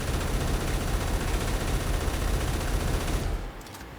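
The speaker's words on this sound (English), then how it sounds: "I'm gonna shoot it with the rocket" A rocket slams into a deflector shield in Space Engineers, a dense, continuous roaring blast that stays loud and steady for about three seconds before abruptly cutting away to quieter residue, with no talk over it.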